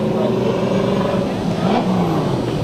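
Super Stock race car engine at Irwindale Speedway running steadily while warming its tires, a loud continuous drone with harmonic revving that rises and falls, with commentators talking over it.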